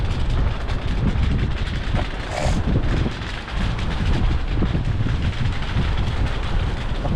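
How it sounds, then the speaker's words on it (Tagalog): Strong wind blowing outdoors at a seasonal market at Yonge and Steeles in Toronto, Ontario, a constant loud roar buffeting the microphone throughout, with no talk. "Lakas talaga guys ng hangin guys"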